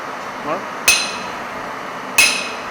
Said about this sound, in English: then place the top fuller on the job, then apply hammer on the fuller